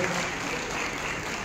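An audience with raised hands applauds the guru at Acharya Chandrashekhar Shastri's birthday celebration, producing a brief, full, steady burst of crowd clapping at moderate loudness.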